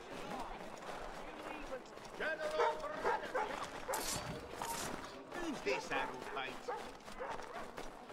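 In the video game Assassin's Creed III, a dog barks and yips repeatedly during a chase, mixed with hoofbeats, running footsteps and game sounds while voices talk over it.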